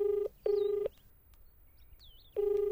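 Three steady telephone dialing tones, each lasting under half a second with a gap before the last, ring out clearly over a quiet room background, with no talking.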